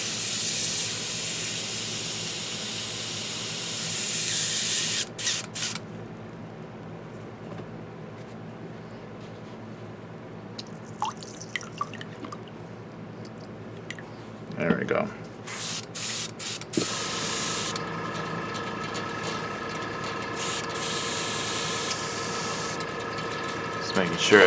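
An airbrush spraying through to clean out paint colours gives loud bursts of hiss that stop and start, with quieter gaps between them and a long steady spray near the end; a person talks at times.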